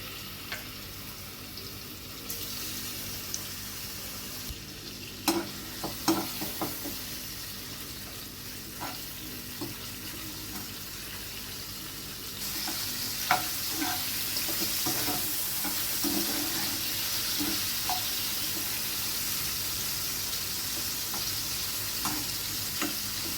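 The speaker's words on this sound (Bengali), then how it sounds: "এটা হালকা করে একটু ভেজে নেব দিয়ে দিচ্ছি চিংড়ি মাছ" Shrimp, cleaned and coated with salt and turmeric, lightly frying in a pan: a steady low sizzle with scattered clicks and stirring scrapes, swelling louder partway through.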